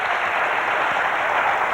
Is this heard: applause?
yes